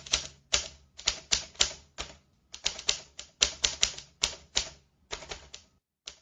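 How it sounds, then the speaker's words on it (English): A typewriter on a metal desk in an old lighthouse keeper's office clacks out bursts of sharp, close keystrokes in quick rhythmic runs, separated by brief pauses, with no voices. "That sound is coming from a typewriter on the desk."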